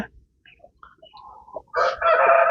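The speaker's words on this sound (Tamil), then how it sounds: "இங்கே ஒரு கோழி இருக்குங்க" Chickens on a farm, one of them sitting on eggs in the grass: soft scattered clucks build into a loud, close burst of crowing-like squawking near the end, with no talk.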